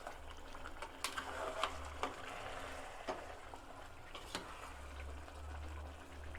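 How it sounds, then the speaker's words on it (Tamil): Chicken biryani masala boils quietly in a pot at home, with soft, steady bubbling and scattered small pops and blips. "இப்போ நல்லா கொதிக்குது"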